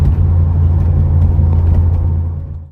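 A 1982 Ford Escort XR3 engine runs with a loud, steady low rumble from close by, holding even for a few seconds before fading out at the end.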